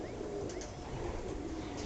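Racing pigeons coo softly in a loft, a low murmuring burble that keeps on under steady background noise.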